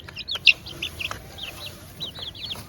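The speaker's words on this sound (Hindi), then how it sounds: "हमारे जो चूज़े हैं तो वो भी ऊपर केज के ऊपर खुले हुए हैं।" Chicks in a cage give a quick run of short, high clucks and peeps, close and fairly loud, with a few soft knocks in between.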